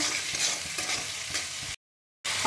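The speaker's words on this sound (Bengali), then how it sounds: "এবার আমি একটু ভালো করে কষিয়ে নেব" A spice paste with salt and sugar being stir-fried for a green potato dum, a constant loud sizzle with rhythmic scraping stirs, cut by a brief silent gap before the frying resumes.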